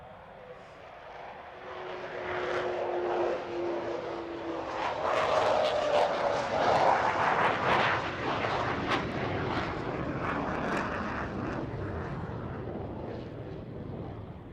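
An Avro Vulcan bomber flies past at an airshow at RAF Waddington, its deep jet roar swelling and holding loud and steady throughout, with no voices heard.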